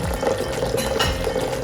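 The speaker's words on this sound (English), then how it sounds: "Adding some water, getting ready to blend up my wood sorrel." Water pours steadily into a blender with wood sorrel, a continuous splashing, gurgling rush close by with no talking.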